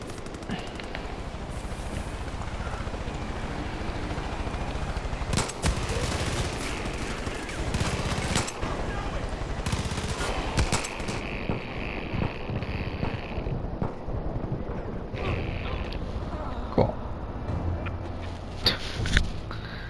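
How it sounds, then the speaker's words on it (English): Gunfire in Far Cry 5 crackles and pops steadily throughout, with bursts of automatic fire and sharp single shots at varied distances over wind and engine-like background noise, with no one talking. "Who's shooting at me?"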